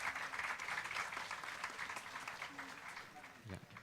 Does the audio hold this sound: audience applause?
yes